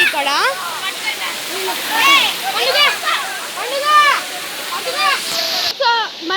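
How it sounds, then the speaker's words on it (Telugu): The Palacndalu waterfall roars as a constant rush of water in the background, while a person talks over it almost the whole time. "ఇదే అనమాట మనం వాటర్ ఫాల్స్ అనేది."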